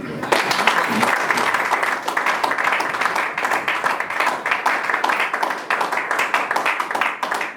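A church congregation applauds steadily, a dense and sustained wash of many hands clapping with a few voices mixed in beneath.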